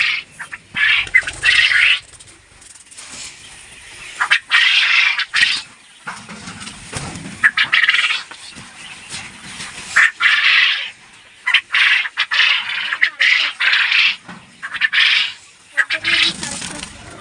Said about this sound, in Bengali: আপনারা দেখতে পারতেছেন পাখিগুলা কীভাবে ডাকতেছে সুস্থ সবল